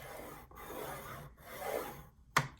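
A bone folder is drawn along a scoring board across a 12x12 sheet of craft paper for a junk journal, giving soft rasping strokes in several passes with brief pauses and a sharp tap at the end.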